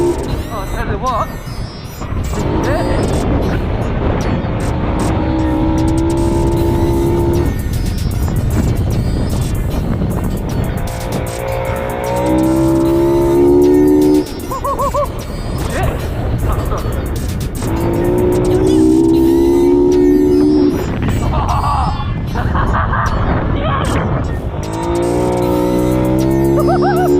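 A converted off-road scooter engine with a sticky throttle revving in a field, rising and falling in repeated loud surges over about half a minute, with someone talking in between.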